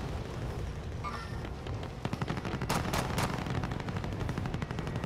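Rapid video game gunfire from a multiplayer shooter, dense bursts of shots over a loud, steady game din, with a sharper cluster of reports near the middle.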